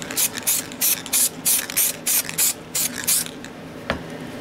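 Spray paint going onto a door locker in about a dozen short, sharp hissing bursts in quick succession, close and fairly loud, then a pause and one final brief burst.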